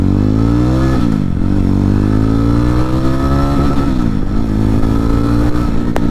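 A 2026 Yezdi Roadster motorcycle engine revs loudly and close up for about six seconds, its steady idle rumble swelling in a few throttle blips, with no voices.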